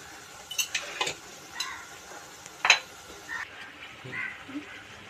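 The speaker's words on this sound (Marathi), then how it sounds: "तेल सुटेपर्यंत 2 ते 3 सेकंद चांगलं मिक्स करत राहायचं" Salted masala being stirred in oil for a drumstick bhaji, heard as a handful of short scraping and ticking strokes of a spoon over a faint crackle, close by with no speech.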